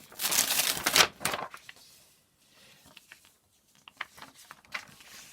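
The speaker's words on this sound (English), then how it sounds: "I'm just going to reposition the paper." Sheets of pattern paper rustle and crinkle as they are shifted and repositioned for drafting a shawl collar, a loud burst of crumpling at the start, then quieter scattered taps and rustles.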